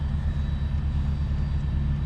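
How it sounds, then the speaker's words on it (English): An 18-wheeler truck idles nearby with a steady, low diesel rumble and a faint whine above it, loud and unchanging with no talk. "Sorry about the 18-wheeler idling behind me."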